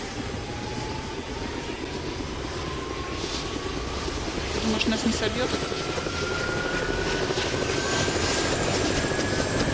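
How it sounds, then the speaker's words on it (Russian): Helicopter rotor and engine drone steadily throughout in the video game ARMA 2: Operation Arrowhead, loud and close, while people talk over it. "Я в вертолет сажусь."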